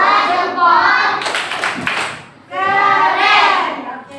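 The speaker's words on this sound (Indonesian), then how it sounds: "Beri dia tepuk keren." An Indonesian classroom of children does a 'tepuk keren' praise clap together in a short burst of under a second, with their chanted voices before and after it.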